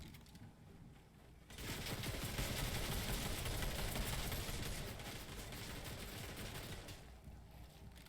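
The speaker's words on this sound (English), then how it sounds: "they're taking gunfire from multiple angles" Dense, continuous rapid gunfire in Fortnite erupts after a quiet second and rattles on steadily for several seconds before easing off, with no voices over it.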